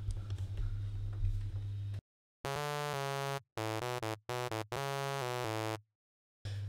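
A buzzy vocoder preset from the NI Massive synth in Ableton Live plays as chopped bursts of harmonically rich synth tones separated by silent gaps, loud and dry, after a stretch of low hum.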